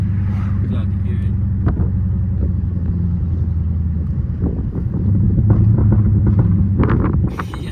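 Low rumbling idle of a Chrysler 300 SRT 392 V8 with its exhaust, steady and close with wind noise, a swell in engine rumble near the end and sharp crackle-like bursts, voices talking over it.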